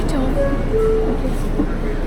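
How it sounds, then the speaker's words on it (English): Steady rumble of a subway train ride, constant low-frequency noise filling the car with a few faint squeals and tones, while people talk over it. "I'm sitting in the subway."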